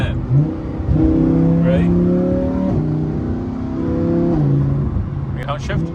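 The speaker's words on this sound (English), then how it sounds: "Why don't you do a few downshifts?" A Lamborghini Huracán EVO engine revs through a series of downshifts, its rising and falling tones loud and close under the talk of people riding inside the car.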